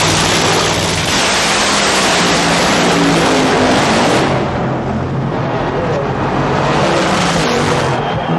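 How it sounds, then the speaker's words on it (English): A nitro-burning funny car drag racing engine blasts close by during dry hops, a dense, loud, crackling roar that holds steady for several seconds and then eases slightly. "Nitro burning funny car is loud."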